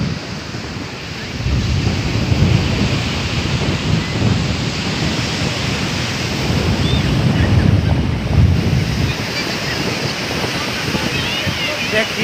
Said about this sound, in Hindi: क्या लहरा तूफान है मनी ड्राइव का